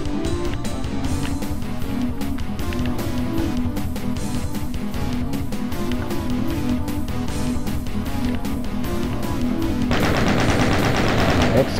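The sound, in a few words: explosions in the video game DOOM 1993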